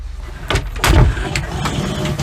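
A double door between sections of a Dethleffs Trend 7017 motorhome is pushed shut, giving one firm thud with a brief latch click, followed by quiet interior rattles.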